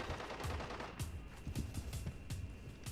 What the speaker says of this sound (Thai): ทุกคนมีเสียงปืนอยู่ตึกฝั่งนู้นนะครับ